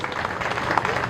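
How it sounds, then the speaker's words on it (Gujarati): Applause from a crowd at a festival procession, brisk clapping mixed with crowd noise and some voices, fairly close and steady throughout the short stretch. "એકવાર જોરદાર તાળીઓ સાથે વધારીએ."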